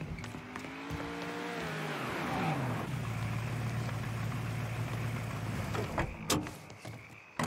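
A car engine in the Mafia III video game idles and warms up in a bayou, a steady low drone with a rising rev near the start, then settling into a constant hum.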